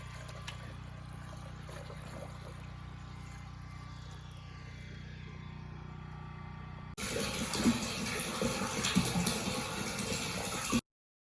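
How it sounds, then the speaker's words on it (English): Water from 5-gallon buckets dumped down a hose to prime the lines at an off-grid cabin, heard as a low steady trickle that turns into a louder, rougher rush of pouring and splashing for the last few seconds. "we usually just dump 5-gallon buckets of water down the hose."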